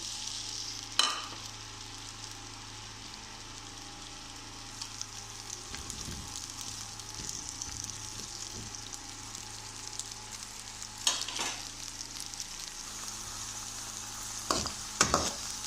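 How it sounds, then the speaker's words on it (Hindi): Okra frying in a pan, a low steady sizzle running throughout with a few sharp utensil clanks and stirring scrapes scattered across it, quiet and close, no talking. "भिंडी हमारी फ्राई हो चुकी है"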